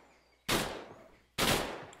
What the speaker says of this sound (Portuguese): Ó, vamos dar um tiro ali.